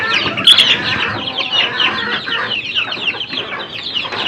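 Chickens and chicks confined indoors by rain cluck and cheep continuously at close range, a busy layered chatter with a brief burst of wing flapping early on.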